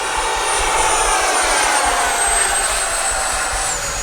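An FMS Rafale 80mm RC jet flies past at full speed in the evening, its ducted-fan engine giving a steady loud whine and roar that stays strong throughout, with a faint high tone gliding down near the end.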